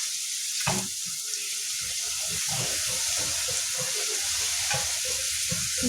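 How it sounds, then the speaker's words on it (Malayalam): Onions frying in coconut oil in a hot pan give a loud, continuous sizzle, broken by the scrape and clatter of stirring. "പാൻ ചൂടാക്കിട്ട് അതിൽ വെളിച്ചെണ്ണ ഒഴിച്ചിട്ട് കുറച്ച് സവാള ഇട്ട്"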